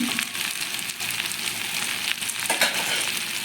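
A steady, close sizzle of cauliflower and potato curry frying in a pan with ghee and garam masala, with faint scraping as it is stirred throughout.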